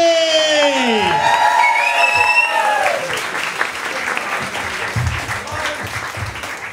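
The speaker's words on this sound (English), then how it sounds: "Put your hands together, start clapping, please." An audience at a Glasgow comedy club breaks into loud, continuous applause and cheering, with a voice calling out sweeping tones over the opening seconds before the clapping carries on alone.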